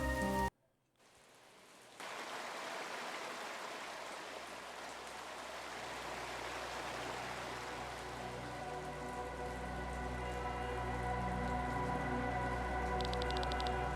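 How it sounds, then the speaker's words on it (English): Endless rain over the city of Tormund in Chained Echoes: after a short silent gap, a dense, steady hiss of rainfall sets in and swells slightly, with faint water trickles and no speech. "the main capital of Terran, where the rain never ends"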